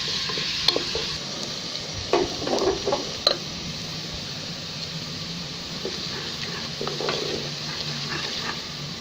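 Onions sizzle and fry in hot oil for beef paya, a steady crackling hiss close by, broken by a few clinks and scrapes of stirring.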